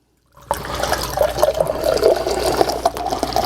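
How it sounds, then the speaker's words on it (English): Canned stout beer poured hard into a glass: after a brief silence, a loud, close, continuous gushing and splashing pour. "stop, pour hard into glass"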